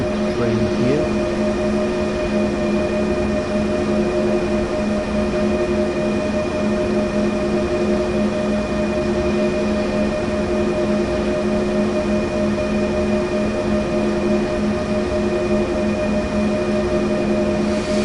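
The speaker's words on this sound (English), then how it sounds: "We've brought this wood train here." Train in Train Sim World 2 on the Cologne high-speed line, a steady synthetic hum of the engine with constant tonal drones and hiss, unchanging and alone throughout.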